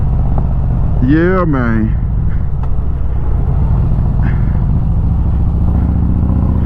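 A motorcycle with a new hydraulic clutch runs loud and steady under load, a constant close engine roar throughout with a brief shift, while someone talks over it.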